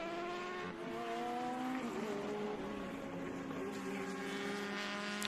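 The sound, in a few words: vintage race cars on final lap at Mid-Ohio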